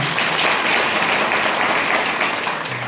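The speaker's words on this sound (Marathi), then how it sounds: "एकदा याच्याकरता जोरात टाळी वाजवा." An audience at a kirtan gathering applauds loudly, a continuous, dense burst of clapping that fills the whole short moment.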